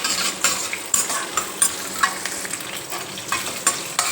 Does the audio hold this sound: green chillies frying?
yes